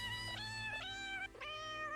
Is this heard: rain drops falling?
no